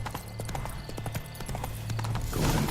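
Horse hooves clip-clop in a steady trotting rhythm in The Witcher 3 video game, close and clear over faint game ambience, with a brief whinny-like sound near the end.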